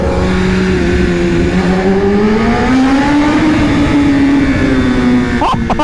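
A BMW S1000RR sportbike with a loud Akrapovic exhaust accelerates hard through a tunnel, its engine note climbing steadily, very loud and close, with echoing rider-side wind noise and a shift near the end.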